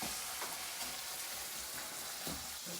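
Shrimp frying in a hot pan give off a steady, close sizzle that carries on throughout with no voices over it.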